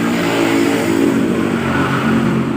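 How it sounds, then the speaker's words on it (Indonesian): A Honda Karisma motorcycle engine revs steadily and close by, holding a constant, dense mid-pitched roar for the whole stretch with no pauses. "di depan saya ada satu unit motor Honda Karisma"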